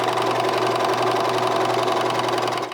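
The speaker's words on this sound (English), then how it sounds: "So I'm just going to sew like usual." A serger sewing machine stitches fabric in a continuous, even whirring hum at close range, running without pause for a few seconds with no voices over it.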